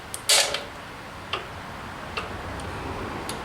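A carburetor bolt on a Yard-Man mower is twisted loose by hand, heard as a sharp initial crack followed by several faint, sparse ticks and creaks close up, with no talking.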